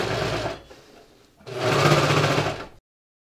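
A serger runs along the edge of a reversible fleece hat in two loud sustained bursts, with a short quieter pause between them and no talking.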